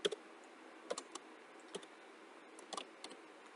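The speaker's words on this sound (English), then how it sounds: "All you need to do is start typing out the first few" Someone types on a computer keyboard while working in Excel 2013, producing quiet, irregular clusters of key clicks with short pauses between bursts over a faint steady hiss.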